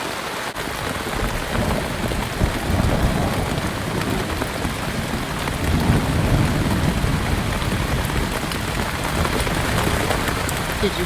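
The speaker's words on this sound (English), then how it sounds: "Did you hear that thunder? Holy moly, it's a major thunderstorm." Heavy rain pours steadily and loudly throughout, with a low rumble of thunder mixed into the dense wash of noise.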